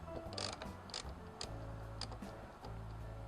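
Ratchet with a 13mm socket and a small extension bar undoing the heat exchanger cap on a boat generator, giving rapid clicking strokes in short bursts, close and clear, with no talk.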